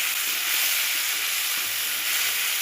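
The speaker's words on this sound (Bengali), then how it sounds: "মশলাটা একটু ভেজে নেব।" Ground cumin paste sizzles steadily in a hot pan for a pumpkin-greens and fresh-fish dish, a continuous close, even frying hiss with no talk.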